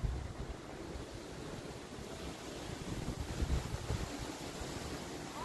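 Strong outdoor wind gusts roaring steadily across the microphone and through trees, a dense broadband rush with low buffeting that swells midway, with no voices.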